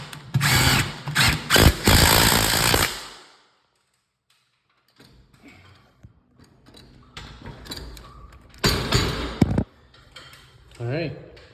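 A power drill drives and tightens bolts during a garage door installation, giving several loud whirring bursts separated by a quiet pause, with metallic clanks and handling noise between them.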